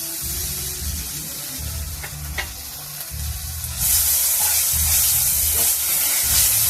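Fresh ginger goes into turmeric and spices frying in a pan for a banana-flower and prawn curry, raising a steady, close sizzle with scraping stir strokes that swells louder and brighter partway through.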